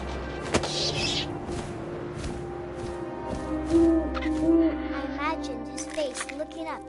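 An owl hoots a few times in the video game What Remains of Edith Finch, with soft ambient game sound around it and a narrator speaking over much of the scene.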